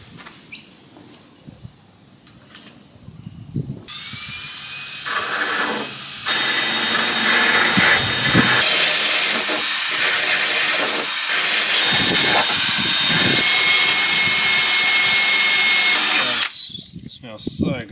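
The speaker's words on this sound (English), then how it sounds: "so I'm gonna have to grind out a little bit of it" A power grinder cuts into the fiberglass of a car's front bar, a steady loud whine and hiss running for about twelve seconds after some quieter handling noise, then stopping abruptly.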